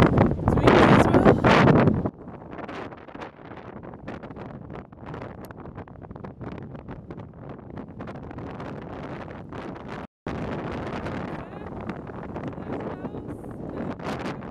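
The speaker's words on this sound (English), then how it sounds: "It's windy as well." Wind gusting across an exposed coastal walking trail at the Mull of Galloway in Scotland, with a loud buffeting burst at first, then steady rushing wind noise against the microphone throughout.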